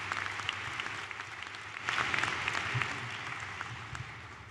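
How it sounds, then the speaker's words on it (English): An audience at a high school graduation ceremony applauds the band, choir and orchestra, a steady dense roar of clapping that swells slightly midway and holds. "Let us give them another round of applause for setting such a magnificent tone for this evening."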